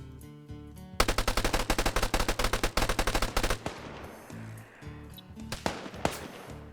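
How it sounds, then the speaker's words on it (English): An anti-aircraft gun in a video game firing a long rapid burst of heavy evenly spaced shots, then breaking into scattered single blasts and echoing rumble, loud and near. "They're firing the AA also."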